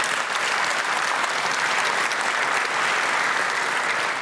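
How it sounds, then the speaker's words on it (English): An audience at an economic outlook event applauds its sponsors, a loud, dense and even round of clapping that holds steady throughout without pause. "Let's give a round of applause to our sponsors."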